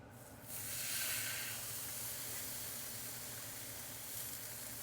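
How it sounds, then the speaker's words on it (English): Ribeye steaks land in a preheated skillet and sear with a sudden loud hiss that settles into a steady close sizzle and lasts for several seconds without talk. "now we've got our preheated skillet. I'm going to put these ribeyes on."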